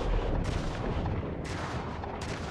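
Gunfire in the Star Citizen game, heavy booming shots in a continuous barrage with three sharp bursts standing out, loud and close with no talk.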